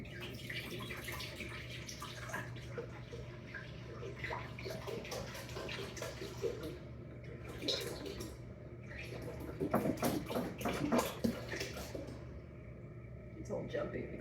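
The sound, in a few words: whole milk poured from a gallon jug into a pot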